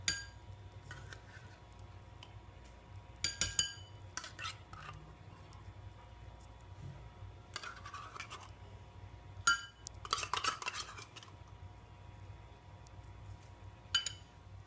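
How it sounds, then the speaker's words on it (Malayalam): Cream and sugar mixed in a bowl with a spoon, giving faint intermittent clinks and scraping taps against the bowl in short irregular bursts, with quiet background hum and no talk. "ഇനി ക്രീമും പഞ്ചസാരയും കൂട്ടി ചേർത്ത് നല്ലപോലെ മിക്സ് ചെയ്യണം."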